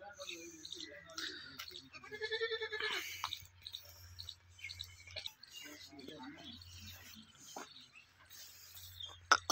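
A goat kept by a hobbyist goat keeper gives a short, wavering bleat early on, with other livestock sounds nearby while someone talks over most of it.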